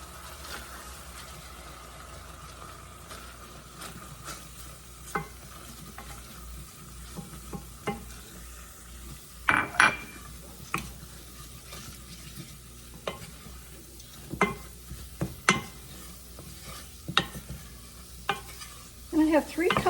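Flour being stirred into a chicken cordon bleu casserole mixture, a soft continuous scraping and stirring in a pan with scattered louder spoon clicks, close and alone with no talk.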